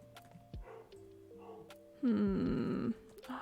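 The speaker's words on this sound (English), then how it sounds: "She's barking up a storm right now." A dog barks and yelps in a loud, strained burst lasting under a second, set against quieter household sounds and other faint noises earlier on.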